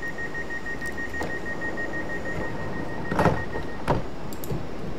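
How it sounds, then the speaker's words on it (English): Train doors closing in the Train Simulator video game: a steady tonal warning beep runs under a low rumble, then two short mechanical thuds as the doors shut. "doors are closed. Nice, and that's what the beeping sound is presumably for."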